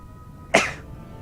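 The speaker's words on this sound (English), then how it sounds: "That's kind of a weak sneeze." A single short, weak sneeze bursts out close by, a quick breathy puff that fades fast against a quiet background.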